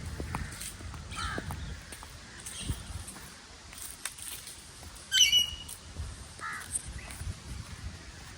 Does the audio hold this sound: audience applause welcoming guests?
no